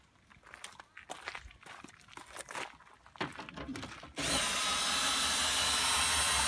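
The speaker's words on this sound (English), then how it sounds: "I will use my power drill with a 3/4 socket" A few seconds of scuffing and handling noises, then a power drill with a 3/4 socket starts up, turning a Jayco trailer's stabilizer, and runs loud and steady without stopping.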